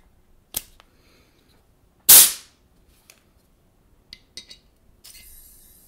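An HK/WE Glock 19 Gen4 gas blowback airsoft pistol fitted with an Ace 1 Arms SAI Tier 1 RMR kit fires close up, giving a sharp crack and a louder gassy pop with small mechanical clicks and a short hiss afterward.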